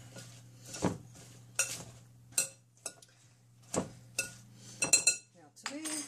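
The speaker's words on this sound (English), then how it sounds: "Let's stir that around a little bit." A utensil stirs Oriental salad dressing in a bowl, making about eight sharp clinks against the dish at uneven intervals, close and clear over a low background hum.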